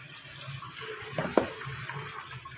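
Water sloshing as leafy greens are washed by hand in a small bucket: a soft steady wash of water with a brief splashing burst in the middle, no talk.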